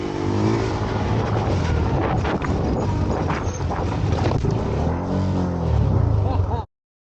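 A KTM 390 Adventure motorcycle ridden off-road in slippery conditions, its single-cylinder engine droning and revving unevenly as the rear wheel slips, close and loud throughout before cutting off abruptly.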